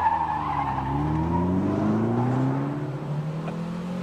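An MG Montego Turbo 2.0-litre accelerates hard from a standstill, its engine pitch climbing steadily as it pulls away, loud and close, with a rough roar throughout.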